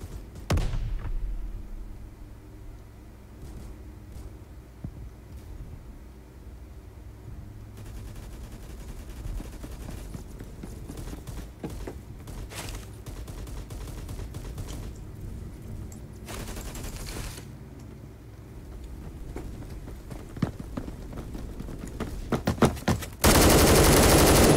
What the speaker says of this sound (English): He had a shotgun.